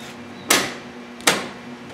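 The door of a restored 1957 Chevy wagon is closed twice in a garage, two close, solid thuds about three-quarters of a second apart, each fading quickly into a quiet background hum.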